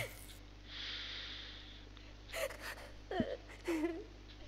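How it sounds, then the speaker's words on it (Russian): A character in the horror game Knock-Knock breathes in shaky gasps and snorting breaths, close and fairly quiet over a low hum, in a few uneven bursts near the end. "Я слышу, как ты дышишь."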